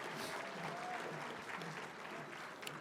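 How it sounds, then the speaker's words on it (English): Applause from the audience at the Mille Lacs Band of Ojibwe State of the Band Address, dense, even clapping that fills the hall and holds steady throughout. "let's give those folks a round of applause for getting this together"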